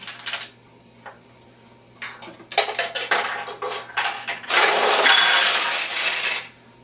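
Steel balls drop through a Nishijin pachinko machine with bright metallic clatter and rattling, starting as sparse clicks and building into a dense, continuous cascade before stopping.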